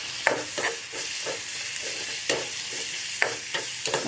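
Spice masala sautéing in oil in a pan, with steady sizzling and repeated scraping strokes of a spatula at an uneven rhythm, close and fairly clear.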